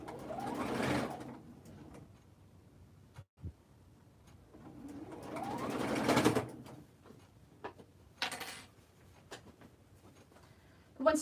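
Sewing machine stitching the side seams of a vinyl snap top bag: short runs of quiet mechanical whirring that start and stop, with soft handling noises between runs.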